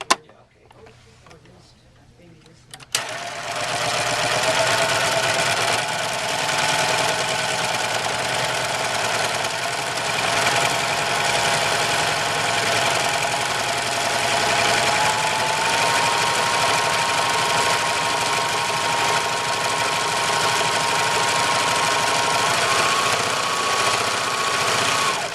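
A serger overlocker runs a wave stitch, a steady, fast mechanical whirr that starts after a short quiet lead-in and continues evenly for over twenty seconds.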